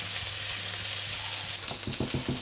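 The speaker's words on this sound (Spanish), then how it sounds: "Cuando el aceite ya está caliente, añadimos la cebolla y los ajos picados." Chopped onion and garlic fry in hot oil with a pinch of salt, giving a steady, close, broadband sizzle with a few soft stirring knocks toward the end.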